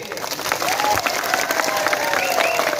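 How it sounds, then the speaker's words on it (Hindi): Applause and cheering from a crowd at a Tipra Motha political rally in Tripura, a dense steady wash of clapping with shouts and voices mixed in throughout. "रतीश बाबू को ताली दीजिए"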